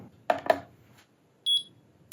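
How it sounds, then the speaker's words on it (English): Two quick taps followed by one short, high-pitched electronic beep from a slim stainless steel digital shipping scale, clear and close in a quiet space. "it beeps when it's stable"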